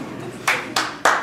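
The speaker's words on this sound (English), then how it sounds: "Clapping, yes, clap." Three sharp, separate claps ring out about a third of a second apart in a comedy club audience, brief and fairly close, with no talk over them.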